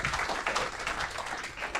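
Applause for a band at a city council meeting in Aurora, a steady wash of many hands clapping from a crowd, moderately loud and unbroken.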